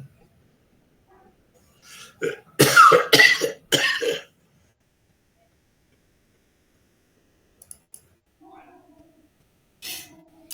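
A lecturer with a strained voice gives a burst of several harsh, close coughs in quick succession, followed by quiet breaths and faint small sounds.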